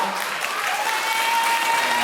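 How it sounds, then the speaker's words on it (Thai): A fan event audience claps continuously for someone on stage, steady dense applause at moderate loudness with a faint sustained tone underneath. "ขอเสียงปรบมือให้เขาเลยครั้งครับ"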